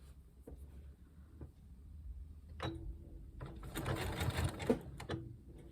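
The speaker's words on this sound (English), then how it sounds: "I'm going to back stitch just a little bit." A sewing machine back stitches a raw edge applique on a jacket. Soft clicks and taps are followed by a brief burst of close, quiet stitching near the middle, then a few more mechanical knocks.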